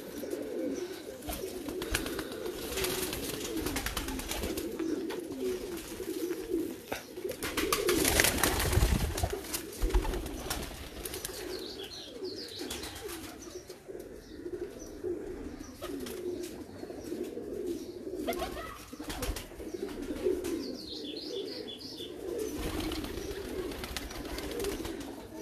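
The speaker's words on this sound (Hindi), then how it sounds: "ये जो गुटक रहा है।" Pet breeder pigeons coo steadily in a loft, a continuous chorus of low rolling coos overlapping without pause, close and moderately loud, with occasional brighter chirps and a brief burst of flutter or handling noise midway.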